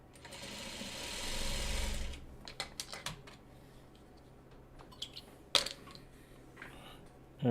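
A sewing machine stitches Farmer's Wife quilt block pieces in a quick, close burst of about a second, followed by scattered clicks and handling taps of fabric and tools.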